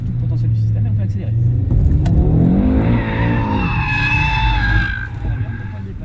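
Audi RS3 all-wheel-drive car braking hard, then accelerating into a drift, with loud sustained tire squeal and skidding over a strong engine note that rises and falls, close by.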